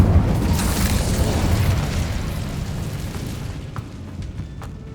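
An Incendio fire spell cast in Hogwarts Legacy, a heavy, roaring burst of flame that starts loud and full, then rumbles and slowly fades over several seconds, with no voices.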